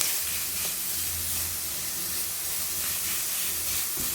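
Chopped carrots drop into onions frying in vegetable oil for Uzbek plov, raising a soft, continuous hiss and sizzle that stays fairly quiet and even throughout, with a faint low hum beneath and no speech.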